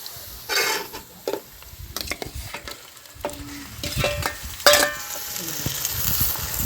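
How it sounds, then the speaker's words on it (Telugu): Chicken goes into a pan of browned onion curry base and fries, a soft sizzle broken by spoon stirring, scraping and clinks against the cookware, with a few louder knocks, and no talk. "ఇప్పుడైతే చికెన్ వేసుకుందామండి."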